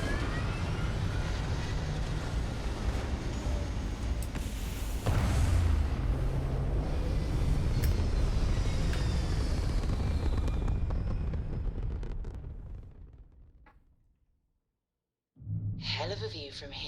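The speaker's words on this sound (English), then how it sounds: "We're clear for takeoff, Captain." Spaceship lifting off in the game Starfield: a loud, sustained roaring rumble that swells midway, then fades away into silence before a short burst of noise returns.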